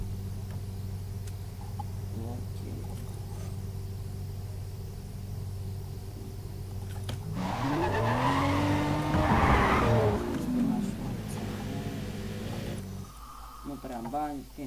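Racing cars in the video game Need for Speed World, with a constant engine drone, then a loud stretch of skidding and squealing tires in the middle before the motor hum settles again.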